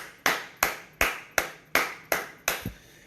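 Church congregation clapping during a Spanish-language service: six crisp, evenly spaced claps in a steady rhythm, fairly quiet, with no talking.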